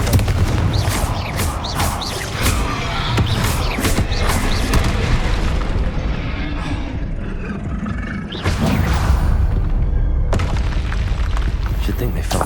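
Confringo fire spell explosions go off in the Hogwarts Legacy game as loud, continuous booming roars with bursts and crackles, with a fresh blast about two-thirds of the way through.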